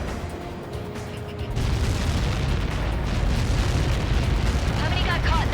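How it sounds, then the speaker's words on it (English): Massive missile impact explosion in Ace Combat 7, a loud sustained roaring blast with deep rumble that swells and holds for several seconds, radio-style voices underneath. "How many got caught in that explosion?"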